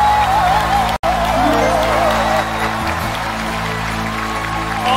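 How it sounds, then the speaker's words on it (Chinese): A studio audience at a televised acting competition applauds loudly and steadily, with scattered cheers, while stage music plays underneath. "用热烈的掌声欢迎刘天池表演工坊的各位老师"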